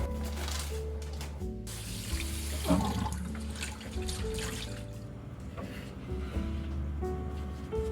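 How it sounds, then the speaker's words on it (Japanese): Tap water runs steadily into a sink while vegetables are rinsed for a home-cooked spring meal of rape blossom salad, mixed rice and napa cabbage soy milk soup, a continuous close splashing wash with brief shifts as the food is moved. "また洗います。"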